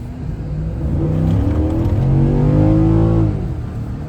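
A Ford F-150 XL pickup's V8 revs hard, its pitch climbing steadily as the truck accelerates, loud and close, then easing off at the end.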